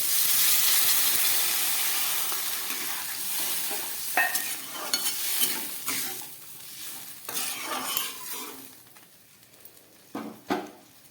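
Water poured into a pan of frying vegetable stalks, a strong hissing sizzle that fades and settles, broken by clinks and stirring knocks.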